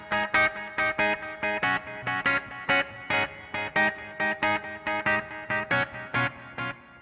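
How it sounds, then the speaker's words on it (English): Guitar through a Yamaha THR amp with combined delay and reverb, playing a rhythmic run of bright, evenly spaced plucked chords, each leaving a short echoing tail, close and clear with no talking. "just the delay and reverb from that"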